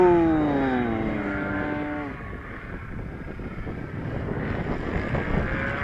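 A Fokker Triplane flies overhead, its propeller engine drone sliding downward in pitch as it passes, then fading into a rougher, windy rumble as it moves away.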